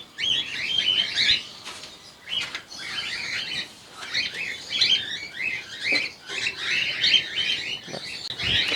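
Cream cockatiels in a breeder cage give repeated shrill chirps and squawky calls, several birds overlapping in bursts close by, with no talk.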